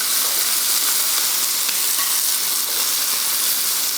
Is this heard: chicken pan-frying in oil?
yes